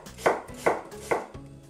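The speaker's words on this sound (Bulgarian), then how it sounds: "Прирязваме лука на едро." A knife coarsely chopping an onion on a board: three clear, evenly spaced chops and a softer fourth, close and fairly quiet, with no one speaking.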